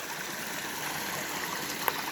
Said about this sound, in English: here you got this waterfall in the background